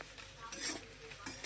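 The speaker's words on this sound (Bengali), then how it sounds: "এই যে ভাজা চলছে সুজি দিয়ে" Semolina is stirred and fried with softened vegetables in a pan for upma, giving a soft scraping and shuffling close by, with light spoon-on-pan clinks and a faint sizzle, all brief and quiet.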